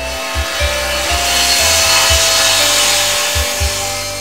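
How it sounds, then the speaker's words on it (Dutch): Neighbours doing DIY saw wood with a loud, continuous rasping noise broken by low, dull thumps. It is close and dominant, with no voices. "De buren zijn aan het klussen."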